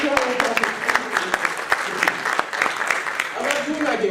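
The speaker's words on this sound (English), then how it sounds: "Big round of applause right here." A keynote audience breaks into steady, sustained applause with dense clapping throughout, while a speaker keeps talking over it.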